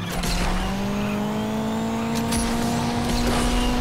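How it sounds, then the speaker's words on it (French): An Alfa Romeo 4C drifts in the racing game Asphalt 8, its tires squealing in a long sustained whine that slowly rises in pitch over a loud engine drone, with short bursts of noise near the end. "Dérapage de toute beauté"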